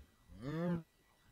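A single cow moos once in the Mo' Dinosaurs game, a short, close, rising-then-falling bovine call lasting under half a second amid quiet surroundings.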